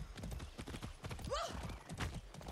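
Rhythmic clip-clop of horse hooves trotting steadily in Far Cry 6, with a brief whinny partway through, over a busy game background.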